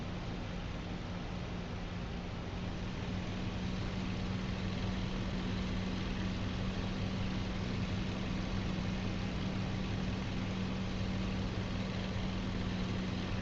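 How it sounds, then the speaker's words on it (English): Steady droning aircraft engine from a B-17 bomber in the DCS flight simulator, a faint, unbroken hum with a constant low tone and no pauses. "Started hearing the engine kind of getting quiet for a second there."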